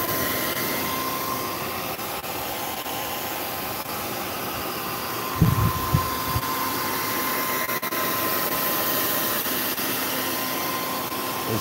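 Steady broadband blowing from a hair dryer runs throughout, loud and continuous, with a brief thump partway through.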